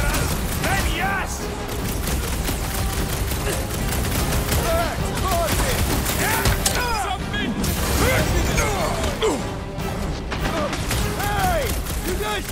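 Nova Corps troops fire energy weapons in the Guardians of the Galaxy video game, rapid bursts of overlapping shots and impacts in a busy battle, with voices and effects mixed in.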